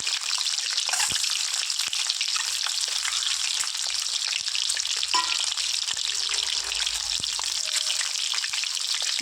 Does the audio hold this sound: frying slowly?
yes